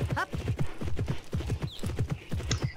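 Horse hooves clip-clop in a steady walking rhythm in the Alexandra Ledermann horse-riding video game, with a short whinny near the start, moderately close and clear.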